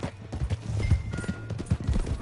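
Horse hooves clip-clop in Red Dead Redemption 2, a steady close run of hoofbeats with low rumbling game ambience and a faint whinny.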